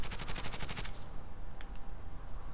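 Video game automatic gunfire rattles off in a fast, loud burst of about a dozen evenly spaced shots, then stops abruptly, leaving a faint room tone with a couple of distant reports.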